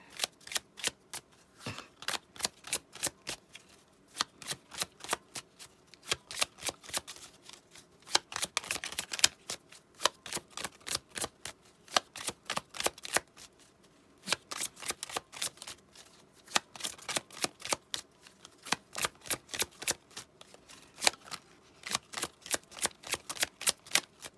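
Close, crisp riffle shuffles of tarot cards, repeated bursts of fluttering clicks with short pauses between, fairly quiet and no voices.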